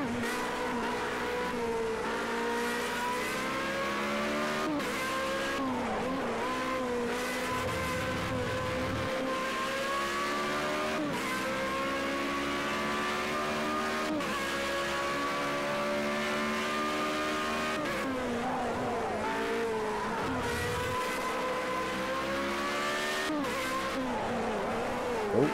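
A race car engine in Project Cars 2 on PS4 revs loudly and steadily through gear changes, its pitch rising and dropping with each shift as it holds near and continuous for the whole stretch.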